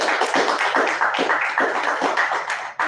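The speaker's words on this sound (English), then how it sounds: "Can we give her one more round of applause?" Audience applause after a guest speaker's talk at a public meeting, a brisk, dense burst of many hands clapping close and loud, tapering off near the end.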